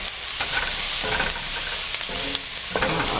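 Vegetables fry in a pan for a shrimp étouffée, a constant bright sizzle with repeated scraping and stirring strokes of a utensil against the pan, close up and without talk.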